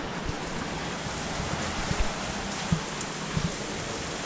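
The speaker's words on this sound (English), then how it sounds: "A lot of rain coming down, but it's Florida." Heavy Florida rain pours down outdoors in a dense, steady hiss, with a few louder drops and soft knocks standing out against the continuous downpour.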